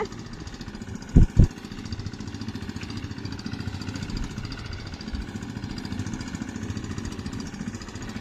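A tractor engine runs steadily at idle outdoors in rainy farm surroundings, a continuous low rumble with two sharp knocks early on and no talking.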